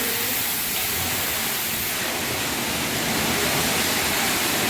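Soap foam sprayed onto a car at a car wash in Saudi Arabia gives a steady, loud, broadband hiss that holds for the whole stretch with no breaks.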